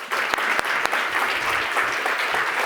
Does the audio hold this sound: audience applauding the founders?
yes